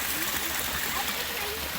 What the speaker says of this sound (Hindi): ये देख सकते हैं पानी चल रहा है यहाँ पर